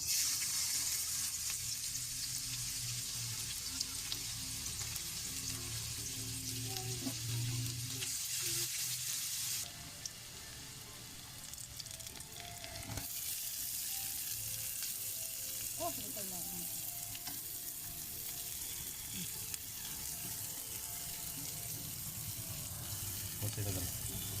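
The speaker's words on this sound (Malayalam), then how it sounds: "എണ്ണ ചൂടായി വരുമ്പോൾ നമുക്ക് അതിനകത്തേക്ക് ജിഞ്ചറും ഗാർലിക്കും ഇടാം" Ginger and garlic fry in hot oil for beef chilli, a steady close sizzle that runs throughout, briefly dipping partway, with faint stirring and kitchen clatter beneath.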